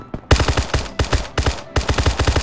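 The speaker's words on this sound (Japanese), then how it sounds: "後ろでも銃声が。" Rapid bursts of automatic gunfire from the mobile battle royale game Knives Out (荒野行動), loud, close and repeated in several quick volleys over about two seconds.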